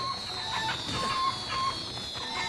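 Chickens cluck in a video game, Old School RuneScape hardcore ironman mode, with several short bird calls repeating over a steady electronic hum, no talk.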